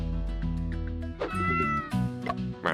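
A cat in the video game Murders on the Yangtze River gives a few loud, close meows, drawn out and slightly whiny, with no talking over them.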